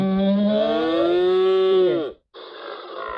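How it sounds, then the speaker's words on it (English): A cow's moo from an animal sound app: a long, loud, tonal low call with rising harmonics lasting about two seconds, then cut off, followed by a short burst of a different sound. "Cow."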